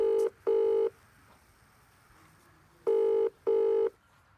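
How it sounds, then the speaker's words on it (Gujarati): A telephone line rings on a call to the police, giving two double-pulse ring bursts separated by a quiet gap over faint background hiss. "યાર પોસવાળાને ફોન કરું પણ આજે."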